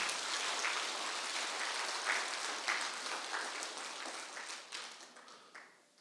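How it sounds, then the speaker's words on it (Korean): Steady applause from a large church congregation at a Korean New Year revival service, dense and sustained for several seconds before gradually thinning out and fading at the end. "120세까지 사시도록 박수 한번 쳐드려요."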